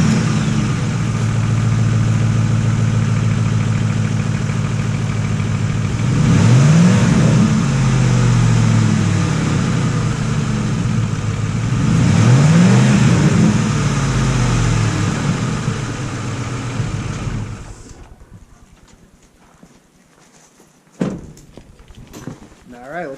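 A 2005 Ford F-150 with its stock air intake idles steadily, then revs twice in rising, swelling roars before settling back. The engine then cuts off, followed by a couple of nearby clunks.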